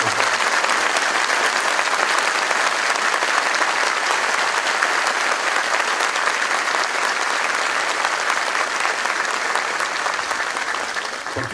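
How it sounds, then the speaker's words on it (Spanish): A church congregation at a feast-day Mass for the Virgen del Carmen in Pelarco applauds, a loud, dense, unbroken wash of clapping hands that holds steady for the whole stretch and eases only slightly at the very end. "¿Merece un aplauso?"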